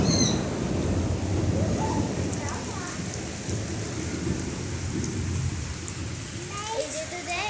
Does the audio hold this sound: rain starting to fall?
yes